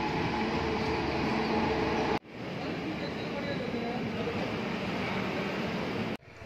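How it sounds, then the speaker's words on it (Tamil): A Double Decker express train rushing past on an Indian railway line, heard as a loud, continuous rumbling roar with abrupt changes in level as gaps between cars pass close by. "நம்ம தலைவன் டபுள் டக்கர் என்ட்ரி ஆகிடுச்சு"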